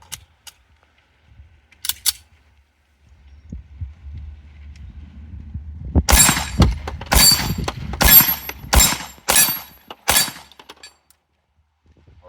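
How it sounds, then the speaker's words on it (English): Six slow-fire pistol shots with Staccato Match ammunition at a steel plate about 15 yards off, sharp, evenly spaced cracks over roughly four seconds after a quiet stretch with low rumble. "that was 6 shots of the Staccato match"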